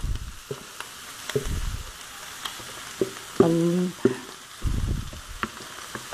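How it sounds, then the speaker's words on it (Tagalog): Pieces of pork offal sizzle and crackle in a hot pan, with intermittent scraping and stirring clatter up close. "Medyo ipiprito-prito po natin, medyo ipapry po natin yung mga laman loob na nilagay natin."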